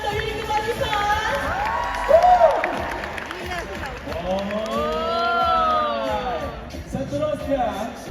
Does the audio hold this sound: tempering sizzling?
no